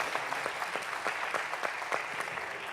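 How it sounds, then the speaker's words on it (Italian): A large audience applauds graduates at an ITS Red Academy diploma ceremony, with steady, dense clapping that holds at an even level throughout and has no talk over it. "Bene, allora facciamo un grandissimo applauso."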